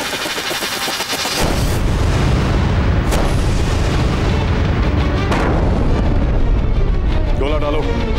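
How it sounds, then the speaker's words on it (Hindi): Cannons fire shells in a dramatised battle scene about Maharana Pratap's war near Chittor fort. A dense, loud, continuous rumble of booming blasts runs throughout, with voices over it. "बरसाते रहो तोपों से गोले"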